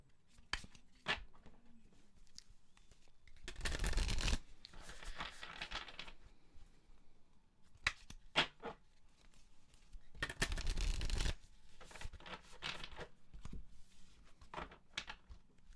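A 62-card Akashic tarot deck being handled and cut, with soft card flicks and taps and two longer riffling shuffles, close and fairly quiet.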